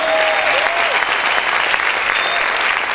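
A church congregation bursts into loud, sustained applause, dense continuous clapping filling the space with a few voices calling out over it.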